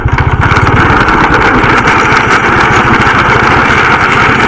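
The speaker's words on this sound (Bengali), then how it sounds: "আগের থেকেও বাইক আসছে" A motorbike engine putters loud and close with a steady, rapid pulsing as it comes across a bamboo bridge over the Kangsabati river. No one speaks.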